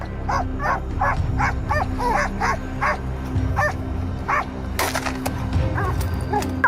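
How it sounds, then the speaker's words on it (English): Hunting dogs bark at a wild boar outdoors in repeated sharp yips and bow-wows, several dogs close by with some whimpering. "The dogs barking made the wild boar panic, trying to find a way to escape."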